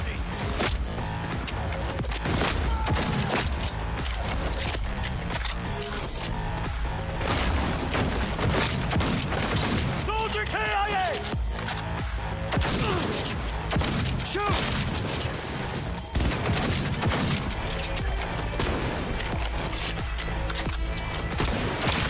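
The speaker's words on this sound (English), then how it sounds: "I'm just doing the reload over and over because it looks so cool" A weapon reloading again and again in the game Cyberpunk 2077, with clicks, clacks and mechanical handling sounds repeating over a busy, loud combat mix of booms and gunfire, with voices talking at times.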